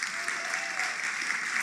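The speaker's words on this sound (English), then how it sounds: "Give yourself a round of applause just for being here." An awards-ceremony crowd applauds at the Indie Series Awards, a dense, even wash of many hands clapping, continuous and fairly loud throughout the short stretch.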